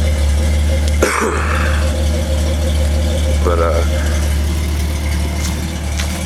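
Exhaust of a 1984 Toyota Supra with a 6M-GE engine idles steadily on a cold day, a loud, constant low rumble heard up close, with a cough and brief talk over it.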